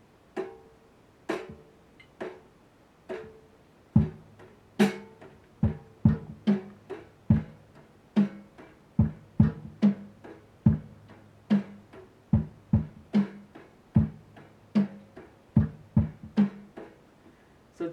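Drum kit playing a second 8-beat variation with bass drum and snare, a steady run of sharp hits with a low bass thump layered in partway through, close and clear with no talk.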